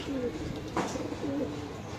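Silver line pigeons cooing nearby, two soft low coo phrases separated by a pause, with a brief rustle or flutter between them and steady background noise.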